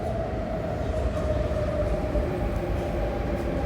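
A metro train runs along the platform at Tung Chung Station, a loud steady rumble with a sustained mechanical hum and no talking.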